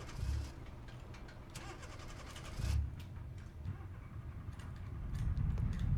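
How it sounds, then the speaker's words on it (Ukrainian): A Moskvich car in BeamNG Drive is started while in gear, giving a few cranking bursts, then an engine that catches and runs with a rough, rising idle. There are no voices. "Заводимо зразу його на передачі. Двигун запустився"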